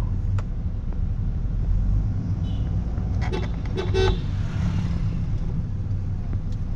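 Toyota Camry automatic with a jerky gear shift, driving through busy traffic: a constant low engine and road rumble, with a few short car horn toots sounding midway.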